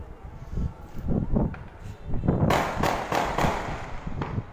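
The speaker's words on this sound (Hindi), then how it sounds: "ये तो सर के पास फायरिंग कर रहा है।" Gunfire or firecrackers on Eid night in Karachi, a string of sharp pops and bangs in quick succession, moderately distant, with the reports growing louder and denser midway.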